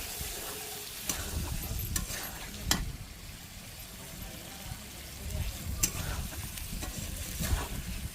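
Chicken and potato curry being stirred in an uncovered pan, repeated scraping strokes and soft thuds over a low bubbling sizzle, no speech.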